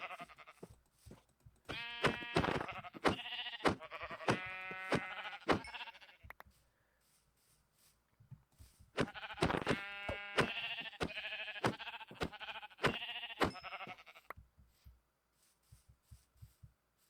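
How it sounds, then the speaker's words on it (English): Sheep in the Minecraft video game bleat in two bursts of repeated wavering calls, with short clicky game sounds in between and quiet gaps around them. "When I spawn back in, I see a couple of sheep"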